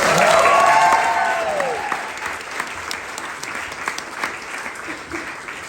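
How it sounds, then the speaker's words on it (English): Wedding guests give the bride a round of applause during a best man's speech, loud clapping with a whoop and cheers at the start, then tapering into lighter scattered claps. "everyone give Vicky another round of applause"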